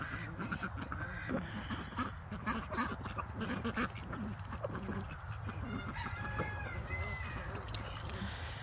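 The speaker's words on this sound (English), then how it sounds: "I do have 2 of my roosters in here." Two roosters in a backyard chicken flock, with clucking and crowing-type calls repeating over a steady low background hum, moderately near, no talk.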